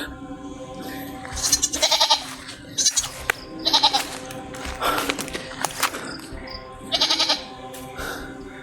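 Goats bleating loudly and repeatedly, several sharp nasal cries in quick clusters, close by, with quieter shuffling between calls.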